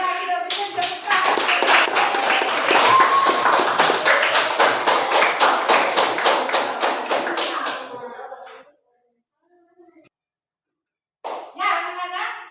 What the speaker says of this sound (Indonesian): Ya, kita berikan tepuk tangan.